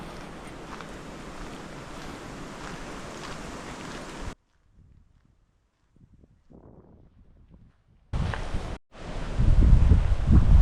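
Gusty wind blows outdoors on a railway walk between Dunford Bridge and Hazlehead, a loud steady rush that drops to near quiet for several seconds before returning in stronger buffeting bursts.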